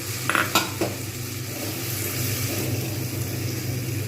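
Onions and tomatoes with spices stirred in a pan for a Bengali pabda fish curry, with a few clinks of a spoon against the pan early on, then a steady low sizzle with no talking.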